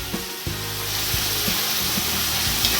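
Turmeric powder and salt stirred in a frying pan over a medium gas flame while making Maharashtrian kanda poha, with steady close sizzling and several scraping strokes of a spoon against the pan.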